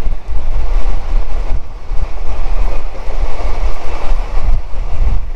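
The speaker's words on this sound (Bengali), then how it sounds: "এই বোলপুর স্টেশনে 2 মিনিটের হল্ট ছিল, ট্রেন আবার আমাদের এখান থেকে ছেড়ে দিল।" A passenger train pulls out of Bolpur station, its steady low rumble and rolling rail noise filling the car, with wind buffeting throughout and no voices.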